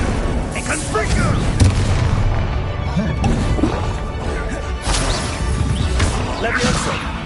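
Explosive Confringo spell blasts in the Hogwarts Legacy video game, a dense run of booming, crashing impacts over continuous loud combat noise, with voices calling out between the hits.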